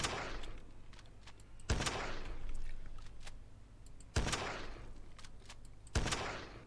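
Sniper rifle shots in the zombie survival game Project Zomboid crack out one at a time, four sharp, loud reports spaced a couple of seconds apart, each trailing into a fading echo.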